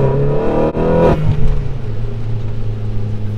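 The engine of a modified Vauxhall VXR car revs loudly and close by, with a deep, rising growl that falls away into a sustained rumbling idle.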